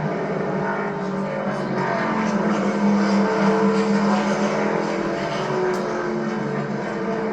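NASCAR Cup Series race cars on the Austin road course, with a sustained droning engine roar that holds steady and loud across the whole stretch without clear pass-by peaks.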